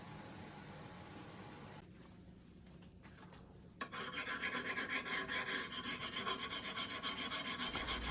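Hand filing with a metal file on a mini lathe tool rest, smoothing out small nicks: a close, steady run of rhythmic rasping strokes that starts partway through after a quiet stretch and grows louder.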